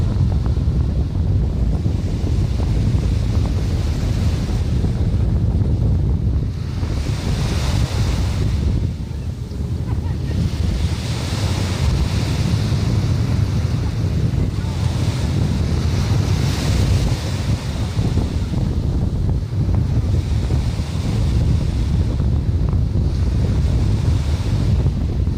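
Steady wind roar and rolling surf at a sunny, breezy Nassau Harbor dock in the Bahamas, loud and continuous with gusts buffeting the microphone and waves washing in soft swells.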